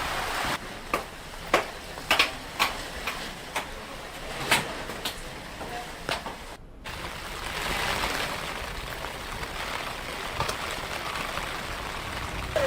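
Heavy monsoon rain pours steadily during flooding in Himachal Pradesh, a dense broadband hiss with scattered sharp knocks and thumps from nearby surfaces, no voices heard.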